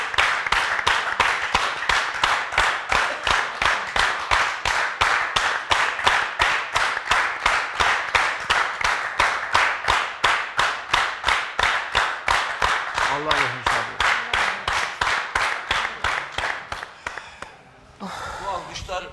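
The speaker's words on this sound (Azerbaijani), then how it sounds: "Ha, alqışlar" A crowd claps at the funeral of Aygün Bəylər in Azerbaijan, striking together in a steady unison beat of about three claps per second. The rhythmic clapping continues for most of the time before it loosens and fades near the end.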